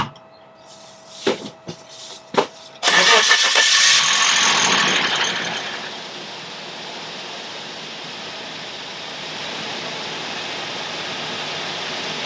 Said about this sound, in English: Let's turn it on and get this car out of here.